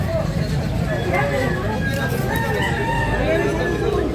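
Rooster crowing at a game-fowl sale in Carbon market, Cebu, with several drawn-out crows rising over a constant loud crowd hubbub and nearby talk, plus a bus-like rumble underneath.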